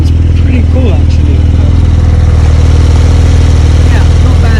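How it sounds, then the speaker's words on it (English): A stock Porsche 992 Turbo S idles in Sport Plus mode with a loud, steady, low burbling pulse close by, while someone talks over it. "I'm going to put it in Sport Plus mode so that you can hear what it's like at its loudest idle"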